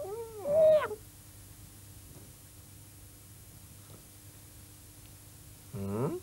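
A person mimics a cat's meow in two short, close vocal bursts, one at the start and one at the end, with near silence between them.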